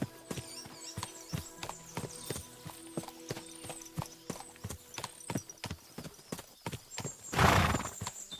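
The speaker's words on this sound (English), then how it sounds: "This is painful trying to ride a horse." Horse hooves in Kingdom Come: Deliverance II, a steady clip-clop of riding on hard ground, close and continuous, with a loud neigh near the end.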